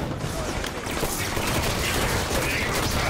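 Dense, continuous enemy gunfire crackles in Halo 5 multiplayer, rapid overlapping shots forming a loud unbroken barrage throughout.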